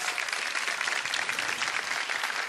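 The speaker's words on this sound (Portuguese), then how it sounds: "Desembargadora, pode aplaudir." Studio audience applauding on a Brazilian television talk show with pastor Silas Malafaia, a dense steady patter of many hands held at an even level for the whole stretch.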